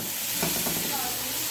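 Grated carrots frying in a pan for vegetable fried rice, a steady broadband sizzle close by with faint stirring scrapes running through it.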